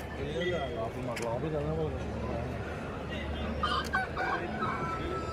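Several roosters crow and hens cluck in a busy poultry area during the Sankranti festival in Bhimavaram while people talk nearby throughout.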